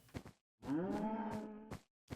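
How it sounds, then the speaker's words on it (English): Cows moo in a snowy Minecraft world: a single drawn-out, low, close moo in the middle, framed by short soft thumps and clicks of game sounds before and after, with no speech. "Snow cows."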